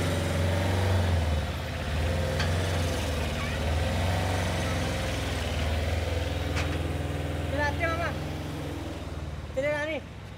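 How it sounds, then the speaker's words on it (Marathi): A tempo vehicle's engine drones steadily as it pulls away at the start of a road trip from Mumbai to Konkan, with a low rumble throughout and voices heard over it. "फायनली मित्रांनो टेम्पो आपला निघालेला आहे"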